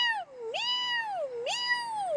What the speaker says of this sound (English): It's a meow, meow, meow.